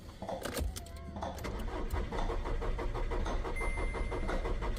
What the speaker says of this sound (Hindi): ये गाड़ी स्टार्ट नहीं हो रही है।